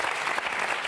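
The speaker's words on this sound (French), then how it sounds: "Applaudissez ce génie" Brief burst of dense studio audience applause on a French television variety show, steady and fairly loud for under a second.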